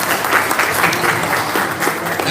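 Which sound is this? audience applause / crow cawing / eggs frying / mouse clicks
audience applause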